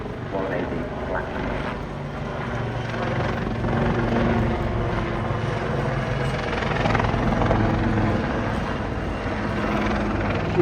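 Royal Navy Black Cats helicopter display at Eastbourne International Airshow, a continuous loud rotor drone and engine whine filling the air, with a commentator talking over it through a public address system.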